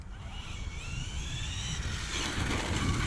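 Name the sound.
Arrma Infraction 6S V2 RC car motor at quarter throttle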